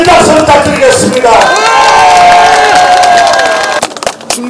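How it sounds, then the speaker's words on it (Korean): A large crowd at a Korean election campaign rally roars and cheers loudly, with long sustained shouted tones carrying over the din and a few scattered claps and knocks near the end. "여러분, 큰 박수 부탁드리겠습니다."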